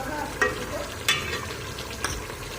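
Chicken keema with added yogurt fries over a high flame, a steady close sizzle broken by three sharp spatula scrapes and clinks against the pan.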